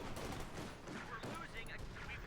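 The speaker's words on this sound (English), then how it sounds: "So much Flak." Anti-aircraft flak gunfire in the video game Company of Heroes 2, quiet rapid bursts of distant shots layered over one another.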